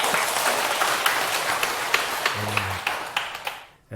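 Audience applause at a Buddhist dharma talk, a burst of scattered clapping from a small group that thins out and fades to near silence after a few seconds.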